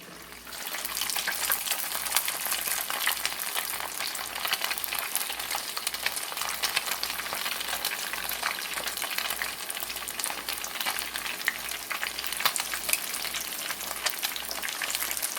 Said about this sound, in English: let's get this fish cooking